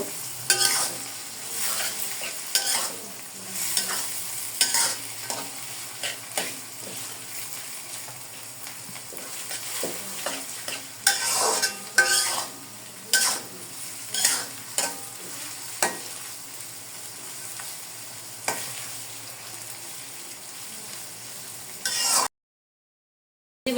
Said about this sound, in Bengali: এখানে আমি সুন্দর করে ডিমটাকে টমেটোটাকে ভেজে নিব।